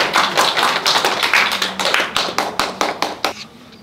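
An audience at a Buddhist university club presentation event claps in a burst of dense, rhythmic hand-clapping that thins out toward the end, with no talking.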